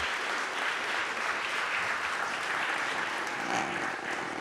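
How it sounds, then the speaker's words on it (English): Steady, full applause from an audience at a Harvard symposium, many hands clapping evenly and continuously throughout at a constant level, with no voices heard. "So please grant them one more round of applause and a welcome on behalf of Harvard."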